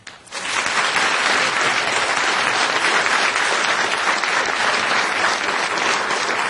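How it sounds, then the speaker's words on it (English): Sustained, loud, steady applause from an evening event crowd welcoming a delegate to the stage, an even wash of many hands clapping throughout with no talk over it. "please keep up that applause to welcome Delegate Skinner"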